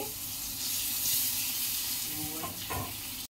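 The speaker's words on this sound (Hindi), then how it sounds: "वर्तमान आमे तड़का दे दबा" Spices sizzle and crackle in hot oil as a tempering for dahi bara, a steady frying hiss with a few louder pops near the end.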